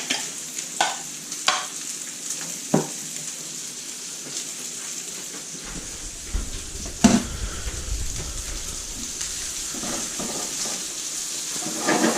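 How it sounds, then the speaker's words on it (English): Bacon or pancetta frying in a pan, giving a steady close sizzle with scattered crackles, and a few stirring knocks early on. "So if you're using bacon or pancetta, you need to cook that first."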